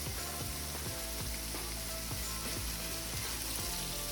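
Butter sizzles and fries in a hot pan while a vegetarian dish cooks, a steady, close crackling hiss that runs throughout with light stirring scrapes and no talking.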